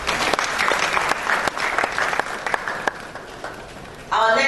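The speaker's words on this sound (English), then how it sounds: "Please, a round of applause for her." Applause from an audience at a political summit, with sharp individual claps rising into a brief crowd clapping and then fading. A voice cuts in at the very end.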